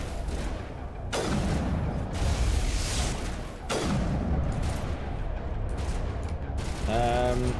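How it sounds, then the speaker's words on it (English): Two loud sniper rifle shots from the Mass Effect video game crack out a few seconds apart, each trailing off into a rumbling echo over steady combat background noise, with a voice briefly heard at the end. "Get a little bit of sniper rifle action going."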